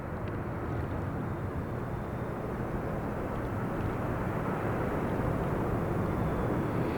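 An airliner arrives at the airport in high winds, its engine roar a broad, steady rumble blended with constant wind noise, heard from a distance without any talking.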